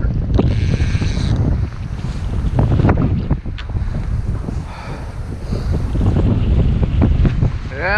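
Strong wind buffets the microphone on a fishing boat out on the water during a halibut session, a loud continuous roar with gusts and splashing waves throughout.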